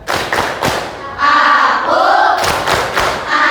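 A class claps the 'tepuk anak soleh' rhythm, with loud group claps and thuds under children chanting together in unison, close and energetic throughout.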